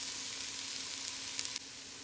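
Peas going into a pot of sizzling lamb cook-up rice, a steady close frying hiss with a brief rustle before it settles.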